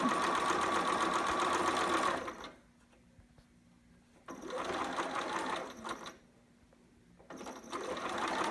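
A sewing machine runs gathering stitches along fabric ruffles in three steady bursts, each a couple of seconds long, with quiet pauses between them and no talking.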